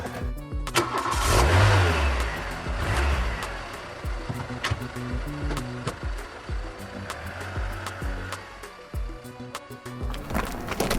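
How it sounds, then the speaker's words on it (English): A car engine cranks and starts with a loud surge, then revs and pulls away, the sound easing as the car accelerates off with clunks and rattles along the way. "Move the car."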